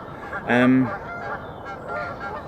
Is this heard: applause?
no